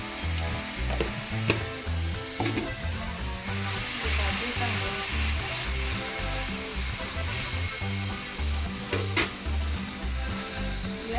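Spices and chilli pieces fry in hot oil for a coastal-style crab curry, a loud, steady close sizzle with crackles and occasional stirring scrapes, a faint voice briefly underneath.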